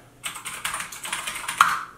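Quick run of light keystrokes on an M1 MacBook Pro keyboard, close and soft, a dozen or so taps in two seconds with no speech.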